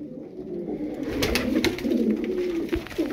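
Tumbler or roller pigeons, kept as performing flight birds, coo in a steady low murmur close by, with several overlapping voices and faint sharper clicks and rustles above them. No voices are heard.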